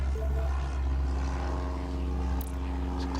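Video-game airplane in Airport Madness accelerating for takeoff, a steady propeller drone with a low rumble that holds loud and even throughout.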